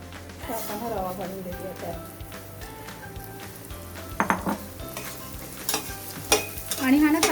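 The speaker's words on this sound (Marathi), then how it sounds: "हा रवा भाजून घ्यायला मी तूप टाकलं आहे" Semolina roasting in hot ghee in a pan, stirred with a spoon that scrapes and clinks against the metal while a soft sizzle runs underneath; someone talks over much of it, with sharper clanks toward the end.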